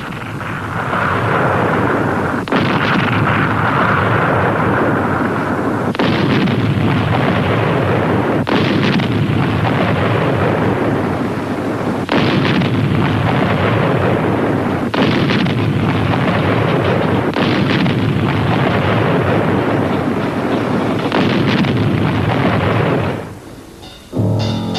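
Artillery bombardment from German siege guns around Leningrad in wartime, a long series of heavy, booming detonations roughly every few seconds over a constant rumble, loud and without speech.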